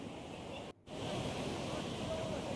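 Sea waves wash steadily onto the shore at Payyambalam beach in Kannur at dusk. The surf is a soft, continuous hiss with some wind, briefly cut out by one short gap.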